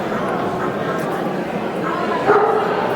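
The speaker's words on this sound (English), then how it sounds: "There's 2 beagles in this one" Beagles, two of them, yip and bark at an indoor dog show in Wrexham, Wales, with a crowd's voices chattering close by and steady hall noise running underneath.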